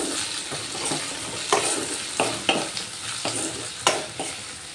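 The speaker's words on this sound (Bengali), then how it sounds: "আর সজনে ডাঁটাগুলো দিয়ে দিলাম, দিয়ে একটু ভালো করে ভেজে নেব।" Bottle gourd stalks and drumsticks fry with onions in a pan, sizzling loudly and close. Spatula strokes scrape and toss the pieces in a quick, repeated rhythm.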